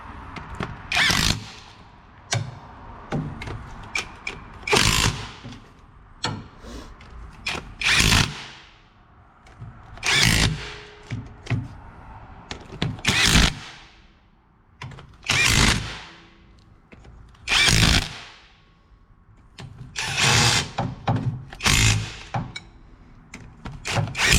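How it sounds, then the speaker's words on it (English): A small 1/4 inch impact driver tightens the rear differential cover bolts on a Ford Explorer Sport Trac in a crisscross pattern, with about nine loud, close bursts of whirring hammering separated by short pauses of handling noise. "we're going to come in here with my little 1/4 inch impact, my little guy, and we're going to start putting this down in a crisscross fashion"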